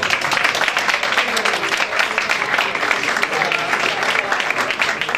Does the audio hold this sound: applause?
yes